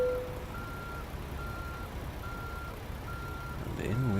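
A semi truck reverses a trailer toward a wall in American Truck Simulator, its backup alarm sounding a steady run of evenly spaced tonal beeps over a low engine rumble, with a thump near the end.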